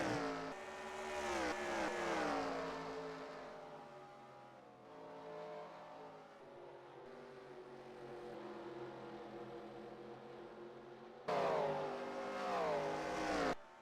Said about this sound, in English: Now there goes Kenny Wallace to the inside of the 48.